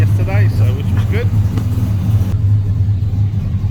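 A speedway standard saloon race car, a new build, idles with a steady, loud low rumble that holds throughout, its upper hiss dropping away partway through.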